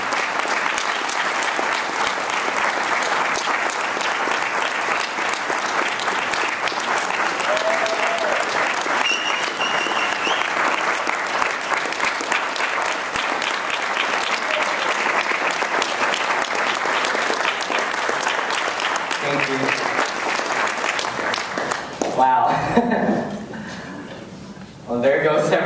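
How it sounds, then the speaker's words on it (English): Sustained applause from a banquet audience, a dense, steady clapping that holds loud and close for over twenty seconds before thinning out near the end as a voice begins to speak. "let's give this gift a big round of applause"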